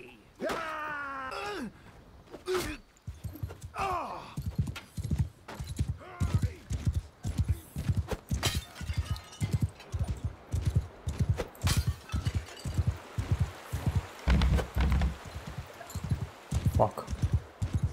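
Steady rhythmic hoof clip-clop from a ridden horse in the medieval combat game Mount & Blade II: Bannerlord, repeating evenly through most of the stretch with occasional groans and voices over the top.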